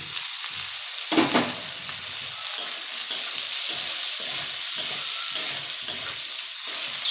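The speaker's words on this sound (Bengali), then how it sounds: "সুন্দর করে ভেজে নিতে হবে কিন্তু না ভেজে নিলে ভালো লাগবে না" Ingredients for fried rice fry in a pan with a loud, constant sizzle and a series of regular stirring strokes, close up.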